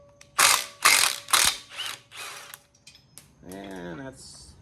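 A ratchet wrench loosens nuts on a 1968 Firebird during a nut-and-bolt restoration, giving about five quick, close ratcheting bursts in a row, followed by a brief voice at the end.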